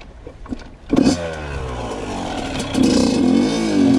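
A Yamaha YZ85 dirt bike engine revs up loudly and holds a steady roar, then surges again with another burst of throttle, close by.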